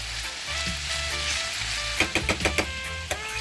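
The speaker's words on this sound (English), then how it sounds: "I just need to do my fried dumpling" Jamaican fried dumplings sizzle steadily in hot oil in a pan, a continuous bright crackle, then a short run of sharper pops and clatters near the end, close up with no talking.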